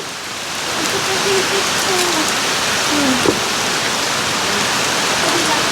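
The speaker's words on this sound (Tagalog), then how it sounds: "Walang hinto ang pag-ulan." Heavy, unbroken rain pours steadily in Samar during flooding, a dense close roar that never lets up for several seconds.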